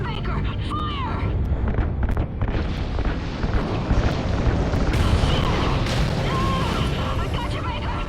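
Heavy rumbling explosion with booming bursts from ignited RCS fuel lines in Call of Duty Ghosts, a dense, continuous roar with crackling debris, loud and sustained with voices mixed in.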